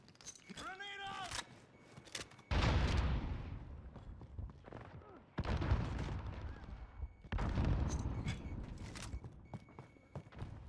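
Grenade blasts and gunfire in Call of Duty Modern Warfare, with sharp explosive bursts and rattling shots going off in several loud waves, separated by quieter stretches and short whistling effects, while voices speak in between.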